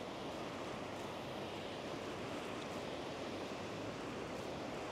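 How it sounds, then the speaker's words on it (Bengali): Waves washing onto the wide beach at Fishing Bay, Phuket, Thailand, a steady soft surf roar blended with wind buffeting the microphone, with no voices. "মানে এত বড় এই সমুদ্র সৈকত"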